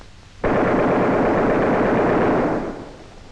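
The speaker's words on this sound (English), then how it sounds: "As soon as he gets in range, fire a 2-second burst." Aircraft machine gun fires one loud, close, sustained burst of about two seconds, rapid shots blurring into a roar that then tails off.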